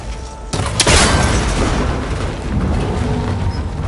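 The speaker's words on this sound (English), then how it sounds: "That connector's holding the cables together. It should break if I shoot it." A cable connector is shot until it breaks in the video game Horizon: a sudden loud boom with a sharp crack, followed by a sustained rumbling, crumbling roar that slowly fades.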